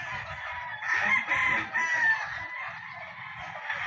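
A rooster crows loudly and close by inside a chicken coop, with hens clucking around it throughout.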